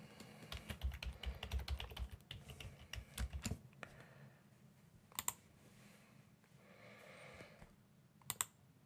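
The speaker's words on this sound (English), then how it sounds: "So I would type in the password again." A password is keyed in on a computer keyboard: a quick run of soft clicking keystrokes over the first few seconds, then a couple of isolated sharper key taps, quiet and close with no talking.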